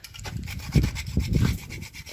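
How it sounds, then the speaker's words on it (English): Nutmeg is grated for homemade chocolate, making a steady rasping scrape with a few stronger strokes, close and moderately loud with no talk. "So here am I grating the nutmeg."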